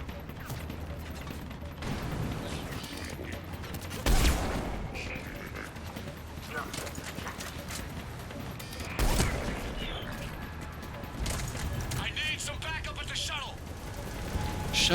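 Firefight gunfire in Mass Effect 3, with scattered shots and two sharp louder bangs standing out against mechanical clatter, while voices talk over the action.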